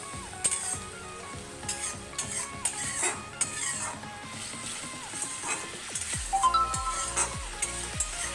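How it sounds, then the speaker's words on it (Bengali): Spice masala frying in a pan with added water, a moderate sizzle with irregular metallic scrapes and clinks of stirring utensils, fairly close and without talking. "জল দেওয়ার পর ভালো করে আবার মশলাটা আরেকবার কষিয়ে নেব।"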